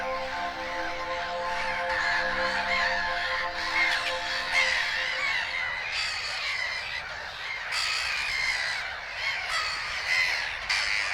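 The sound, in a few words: black-headed gull nesting colony calling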